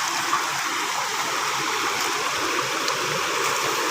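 An artificial waterfall flows with a loud, steady rush of falling water, constant and close, filling the whole moment without speech.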